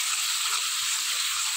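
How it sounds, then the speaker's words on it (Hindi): Tomatoes and spice masala sizzle steadily in a pan, a close, loud, continuous hiss with no talking over it. "ताकि टमाटर थोड़े से नरम हो जाए और मसाला अच्छी तरह भून जाए"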